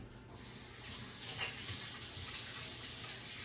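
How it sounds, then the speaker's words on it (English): Water runs steadily from a tap as hands are rinsed of puzzle glue residue at a sink, a continuous close hiss with no talking. "So then I'm going to wash my hands off."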